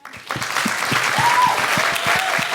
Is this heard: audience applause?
yes